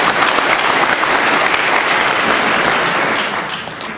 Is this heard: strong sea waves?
no